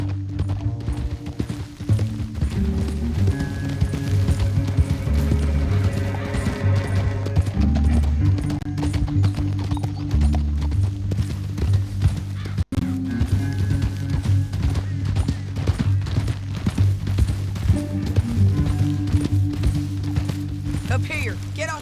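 Horses galloping in the video game Red Dead Redemption 2, with steady rapid hoofbeats running throughout under a music score and occasional speech.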